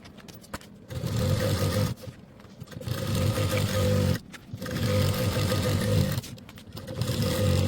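A sewing machine stitches two layers of fabric together along the sides of a wall-hanging organizer. It runs in three steady, fairly loud bursts of rapid needle chatter, with short pauses between them.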